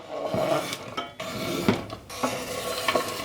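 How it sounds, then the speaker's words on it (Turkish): Butter, vanilla and milk chocolate are stirred briskly in a pot off the heat for a Turkish supangle pudding, with close, steady scraping and clinking of a utensil against the pot in repeated strokes. "Sıcağa geçmeden eklediğim malzemeleri içinde eritmek için hızlı hızlı karıştırıyorum"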